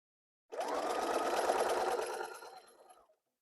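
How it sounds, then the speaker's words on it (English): A sewing machine runs in one steady burst of about two and a half seconds, stitching down a folded flannel strip on a baby blanket, then winds down and stops. There is no talk. "I'm just pulling it and folding it over and stitching it down."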